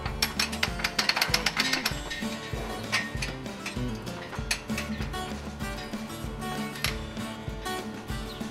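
Ratchet winding a strap on a Wrangler hoofcare leg support, quick close clicking bursts of pawl ticks repeated in irregular runs, with a faint rattle between strokes.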